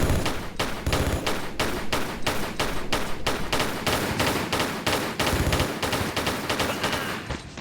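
Rapid pistol gunfire in a Tomb Raider custom level, a steady run of about two dozen loud, sharp shots at close range with hardly a gap, continuing alone for several seconds.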